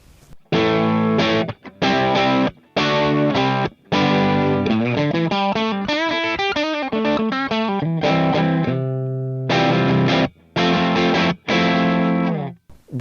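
Electric guitar played through a Joyo Jackman distortion pedal, loud and bright, in short chopped chord bursts with gaps of silence, then a run of faster notes and several more hard-stopped chords.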